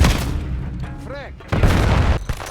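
A frag grenade explodes in Call of Duty Black Ops 7 with a heavy, loud boom after a quieter stretch of battle noise. Gunfire and other combat sounds surround it, and a voice speaks briefly partway through.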